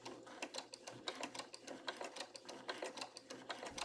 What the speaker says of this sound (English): Drop the presser foot and continue sewing.